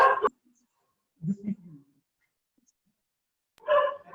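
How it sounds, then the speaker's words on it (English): Dogs barking indoors during an online debate meeting, giving a few short barks and yips separated by quiet gaps: one near the start, a lower muffled pair in the middle and another burst at the end. "Exact time when my dogs decided they need to participate in the debate."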